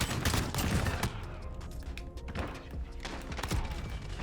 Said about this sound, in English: I'm getting shotgunned